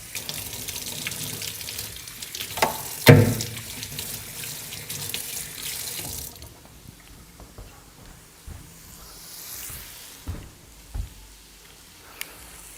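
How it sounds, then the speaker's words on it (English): Running sink tap pours water while a bowl that held raw meat is rinsed, a steady close wash in the first half, quieter afterward with scattered clinks. "Personally, while this is cooking, I'm just gonna go wash this off real quick."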